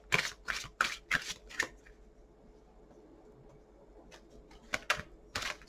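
Oracle cards being shuffled in quick riffling bursts, a cluster at first, then a pause and another few shuffles, close and crisp.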